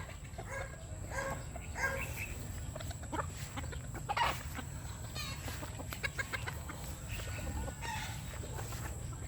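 Black Henny chickens cluck steadily nearby, with scattered calls from other fowl on a farm over a constant low background rumble.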